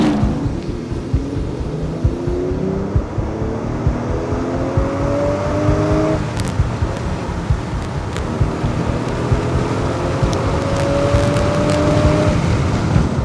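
An Aston Martin engine accelerates hard in two long, rising pulls, loud and close, its pitch climbing steadily with a brief shift between surges.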